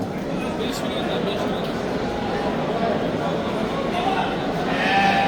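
Sheep bleat at the Plotina livestock market in Tashkent region, their calls scattered through a steady crowd murmur as people talk close by.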